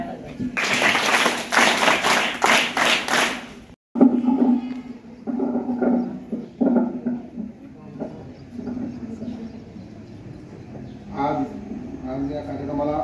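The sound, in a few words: audience clapping at school ceremony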